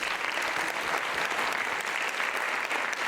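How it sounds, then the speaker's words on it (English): Steady, dense applause from a sizable crowd at an Indian classical dance debut recital, continuous clapping at an even level throughout without pause. "A big round of applause for all."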